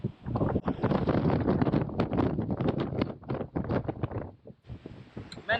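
Strong gusty wind buffets the microphone in loud, continuous rumbling blasts with brief lulls, harsh and close, in wet, wild weather in Wales.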